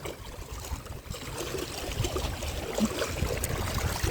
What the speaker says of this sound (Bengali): গাইস, আপনারা সমুদ্রের আওয়াজটা দেন